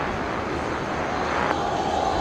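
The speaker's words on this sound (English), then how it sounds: "19 right, cleared for takeoff." A jet rolls for takeoff on runway 19 right at Brisbane Airport, a steady, loud, broad engine roar heard from a distance.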